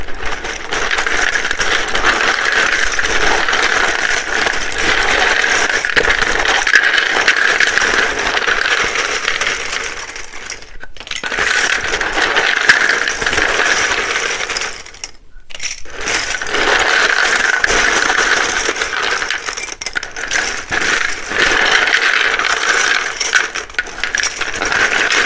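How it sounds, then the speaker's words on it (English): Loud, dense shuffling of a deck of tarot cards close to the microphone, a continuous papery riffle and clatter broken by two brief pauses, with no talking. "It can be very loud when I shuffle these."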